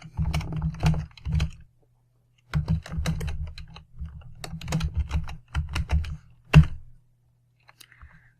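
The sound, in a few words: typing on a computer keyboard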